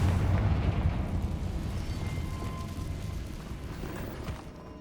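A Confringo fire spell blasts in the video game Hogwarts Legacy, a loud booming explosion at the start that rumbles and slowly fades over several seconds, with no talking.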